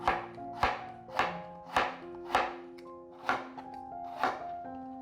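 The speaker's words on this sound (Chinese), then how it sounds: "把红甜菜切片" Knife slicing peeled red beetroot on a cutting board, seven crisp, evenly spaced chops with a clear thunk on each stroke, close and alone, no talk.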